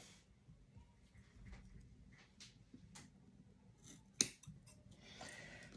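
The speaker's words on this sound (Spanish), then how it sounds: "Y ahora, ya que está, pues cortamos aquí." Scissors make a few quiet, separate snips while trimming table tennis racket rubber, with one sharper cut near the end and soft background noise.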